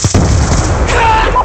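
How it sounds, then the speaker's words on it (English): A loud, rumbling boom from a Hellstorm missile blast in Call of Duty: Black Ops 2, a heavy low roar that lasts through the whole moment amid dense game noise. "Hellstorm missile inbound."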